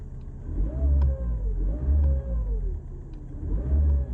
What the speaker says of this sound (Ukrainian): Турбіна підвиває